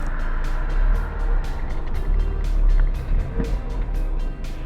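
A Mazda MX5 Miata with a newly replaced clutch cylinder rolls in reverse, its engine a low steady rumble with a faint rising whine, nearby and alone without voices.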